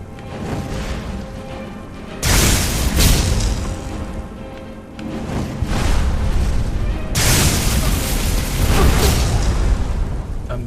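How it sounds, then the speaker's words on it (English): Booming, crashing bursts from an exploding magic spell in the video game Skyrim, two loud sustained blasts separated by a brief lull, dense and roaring across the whole clip. "I don't like his exploding magic"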